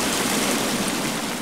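Steady rushing flow of water in a video game, a continuous broadband wash with no pauses or voices.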